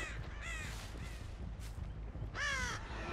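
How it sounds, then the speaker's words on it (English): Crows in the Dead by Daylight video game give a few harsh caws, separated by short gaps, over a low ambient game drone with no speech. "Those birds just came back."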